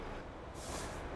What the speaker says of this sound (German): LKW steht, Motor aus und dann geben wir die Fracht ab.